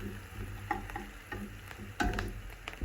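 Onions fry quietly in a pan with a soft, continuous sizzle, punctuated by light ticks and scrapes of stirring throughout, with no one talking.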